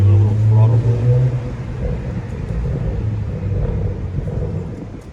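BMW E93 335i with the N54 engine and stock exhaust gives a throttle blip: loud low engine rumble that swells near the start, then settles into a steady idle with burbles, close to the microphone.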